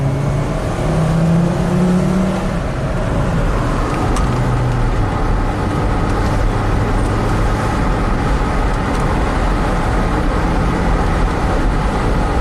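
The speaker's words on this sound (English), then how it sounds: "I'm going to do a couple miles, just a quick acceleration" A 2005 Volvo XC90 Turbo accelerates on the road, heard from inside the cabin as a steady, dense drone of engine and road noise that swells slightly as it speeds up.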